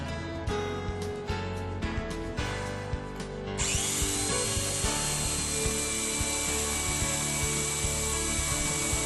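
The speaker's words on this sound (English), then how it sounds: "The 2-sided guide allows the operator to drill from both sides, preventing breakout." A power drill bores into the edge of a door through a door drilling fixture for lock installation. A few short bursts start it off, then a steady, loud grinding whir runs without pause, close up.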